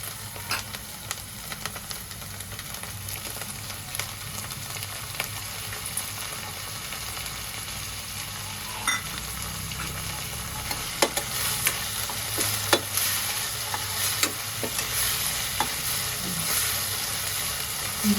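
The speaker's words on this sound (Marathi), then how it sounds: "टोमॅटो मऊ होईपर्यंत परतून घेऊया" Chopped tomatoes sautéing and being stirred in a pan for a moong sprouts pulao, a continuous soft sizzle with occasional scraping spatula strokes, close and fairly quiet with no voices.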